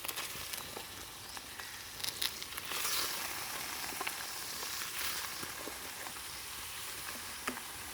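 Meat and pork intestines hit a pan of already-fried onions and sizzle steadily, with a dense crackling hiss and scattered sharper pops and spatters that carry on throughout at close range, with no talking.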